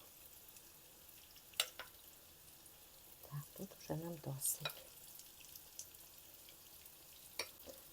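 Quiet, steady sizzling of batter-coated cauliflower pieces frying in oil, with a few clinks and a short stretch of speech in the middle.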